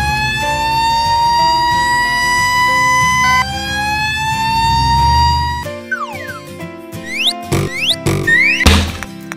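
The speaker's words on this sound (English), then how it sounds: "Fire truck." A fire truck siren holds a loud, steady, long high wailing tone that drops in pitch, then gives way to cartoonish boings and thumps.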